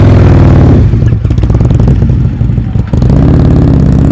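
A motorcycle engine held on the throttle during slow-speed riding practice, a steady close engine drone that dips briefly in the middle before picking back up.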